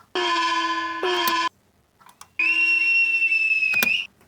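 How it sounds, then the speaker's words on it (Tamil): A whistle sample edited in Ableton: two steady tonal blasts, a short one and then a longer, higher sustained whistle, each clean and loud with a sharp click near its end, separated by a brief silence. "விசில் எடுத்து வச்சுக்கலாமா?"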